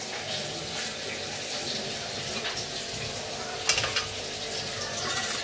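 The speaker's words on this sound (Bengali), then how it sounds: "তো এই ডিমটা ভেজে রাখি, ডিমটা ভেজে রাখি।" An egg frying in a pan, a steady soft sizzle and hiss continuing throughout with one brief clink partway through.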